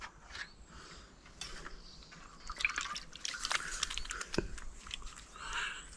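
Soap and water being used for an outdoor wash in the field: quiet wet rubbing, dripping and splashing with a few small clicks, near and soft with no talking.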